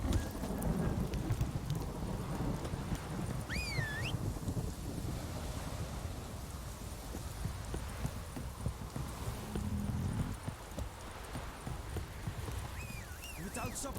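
Steady rain pours through a Witcher 3 game scene, with hoofbeats clopping along underneath, a low rumble of thunder and brief whistling tones drifting over the constant hiss.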